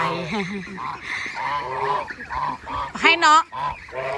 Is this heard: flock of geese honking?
yes